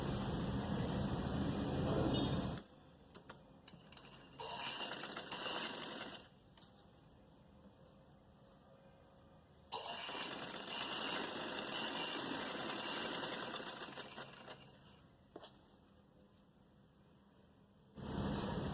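Sewing machine stitching the seams of a narrow salwar: a few sustained runs of steady whirring stitching broken by quiet gaps with faint handling clicks, close and low in level, with no talk.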